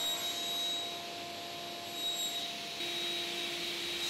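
A saw blade makes a test cut in wood on a jig, giving a loud, steady whine with a continuous tone that shifts in pitch partway through.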